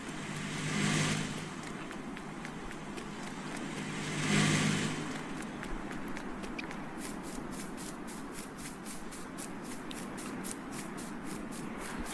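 A lorry engine driving in a farming video game hums steadily, swelling twice as it revs, with a fast rhythmic ticking joining later; no talk.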